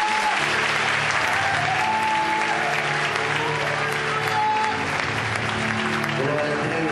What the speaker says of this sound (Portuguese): E nos rendemos a Ti, Senhor, com uma linda e grande salva de palmas.